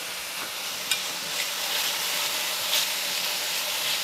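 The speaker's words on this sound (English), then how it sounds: "I'm going to add our garlic and let that cook as well" Garlic frying in a pan for a mushroom pâté, giving a steady, close hiss of sizzling oil with faint stirring clicks throughout.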